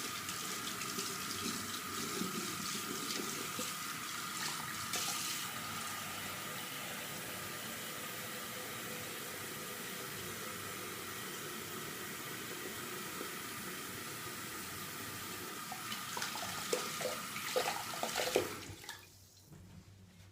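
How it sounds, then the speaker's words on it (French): Lukewarm water running from a tap while rinsing a face after a homemade natural scrub and mask, a steady continuous splashing flow that swells slightly near the end before cutting off. "vous allez rincer à l'eau tiède"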